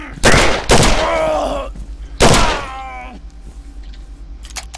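Two loud, close gunshots ring out in Condemned: Criminal Origins, a couple of seconds apart, each followed by a decaying echo, with faint movement between them.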